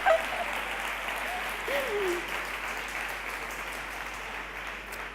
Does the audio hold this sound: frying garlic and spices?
no